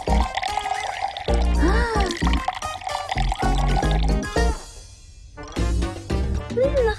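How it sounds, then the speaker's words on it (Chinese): Tea poured from a teapot into a cup in a cartoon kitchen scene, a bright filling gurgle that rises in pitch, broken up by brief pauses and backed by music, with characters speaking around it. "这次我保证可以倒好茶，一滴水也不洒出来"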